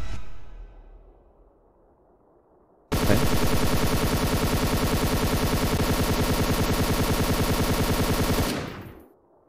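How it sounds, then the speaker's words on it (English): Looped gunfire from the game Hunt Down The Freeman: a loud, unbroken, rapid automatic burst of evenly spaced shots lasting about six seconds, cutting in abruptly after a quiet fade and stopping just as suddenly. "The same gun sound looped"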